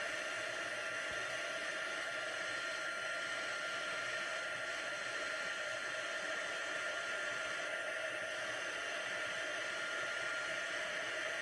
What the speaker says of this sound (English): If you have your embossing tool heating up,